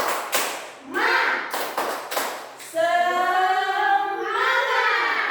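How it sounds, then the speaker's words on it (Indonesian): Schoolchildren at an elementary school perform a rhythmic spirit-clapping routine, with sharp claps in short patterned bursts followed by loud shouted chanting in unison from the group. "sama-sama orang sekarang buat gerakan tepuk semangat"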